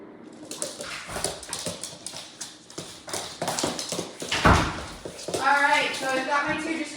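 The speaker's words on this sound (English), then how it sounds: "even with other dogs playing right in front of him" Dogs play in an indoor training room, their paws tapping and scrabbling on the floor along with snuffles and a brief whine, fairly close, while a person talks to them.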